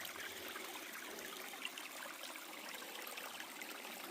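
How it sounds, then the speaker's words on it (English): Creek water flowing steadily through a rainforest, a constant close, fairly quiet trickling rush with no voices over it. "It's a different looking kind of creek."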